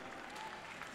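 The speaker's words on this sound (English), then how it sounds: "any applause for Franklin Mayor Ken Moore" A crowd at the opening day of a 2015 county fair gives a brief, faint burst of clapping outdoors, soft and distant for about a second.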